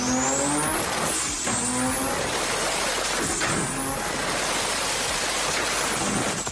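BMW 335i E92 with the N54 twin-turbo inline-6 running loud and close, a continuous throaty roar with rising and falling turbo whine and hiss over it, steady throughout.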